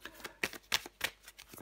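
A quick run of soft papery ticks and flicks as tarot cards are shuffled and drawn, close and quiet, with no voice over it.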